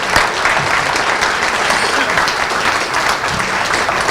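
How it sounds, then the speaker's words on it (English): An awards-ceremony audience claps for a business award winner in sustained, dense applause that fills the room evenly from start to finish, loud and close, with no talking over it. "Let's give it up for Jason one more time."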